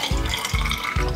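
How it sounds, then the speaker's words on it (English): Celery pineapple juice pouring into a glass, three short splashy pours in quick succession with steady liquid gurgle between, close and fairly loud. "So pour out this juice."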